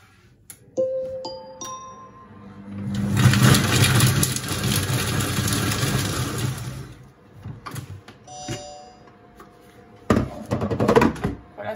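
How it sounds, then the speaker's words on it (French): A Monsieur Cuisine Smart food processor coarsely chops two onions at speed 5, a loud dense whirring burst of about four seconds, framed by quieter clicks and beeps before and after. "On va venir les mixer grossièrement. Donc je vais faire vitesse 5 pendant 5 secondes."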